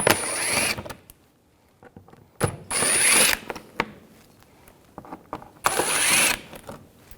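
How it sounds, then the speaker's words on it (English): A ratchet with a T25 socket backs out screws in the front wheel well of a 2011-2018 Volkswagen Jetta TDI wagon, making three loud, close bursts of rapid clicking separated by quieter pauses. "Underneath, we're going to remove these screws. Use a T25 socket."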